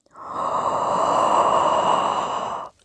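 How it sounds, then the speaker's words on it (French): A deep, steady inhalation drawn as part of a singer's breathing exercise, one long breath that swells in quickly and holds at an even strength for more than two seconds before stopping abruptly, close and alone. "À ce moment-là, je vais venir prendre une inspiration."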